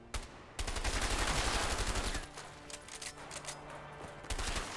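Gunfire in the video game A Way Out comes from enemies aiming at the player: a fairly faint, sustained volley of rapid, overlapping shots with a few sharp separate reports at the start and end.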